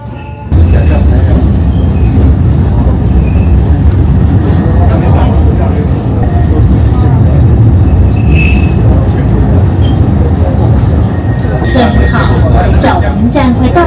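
A tourist train on Taiwan's Alishan forest railway runs steadily along the track with a constant loud rumble and clatter, brief squeals and creaks, while people talk faintly over the noise.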